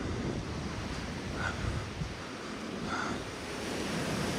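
Steady wash of surf on a beach at Zelenaya Roshcha in Sochi, a continuous broadband roar with some wind noise and no talk.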